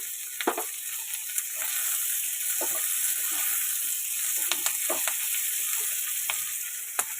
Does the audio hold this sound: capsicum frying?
yes